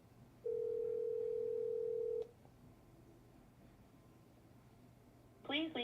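A steady telephone dial tone hums alone for about two seconds during a phone call, then cuts off, leaving quiet line noise before a brief voice near the end.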